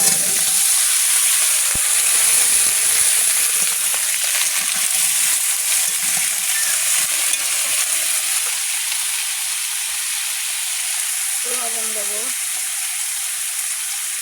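Green chillies fry with mixed vegetables in a hot pan, giving a loud, steady sizzle and hiss that runs throughout, with a brief clink of stirring near the end.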